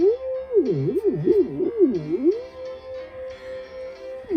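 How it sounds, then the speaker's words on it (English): A synth note bends down and back up repeatedly in swooping dips using a touch strip, then settles onto a steady held tone. "You can pitch bend with it."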